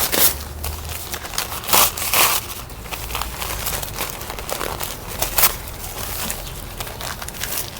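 Air-pillow packaging crinkling and crackling while an orchid is unboxed, close and fairly soft, with bursts of plastic crunching and rustling handled in uneven bunches.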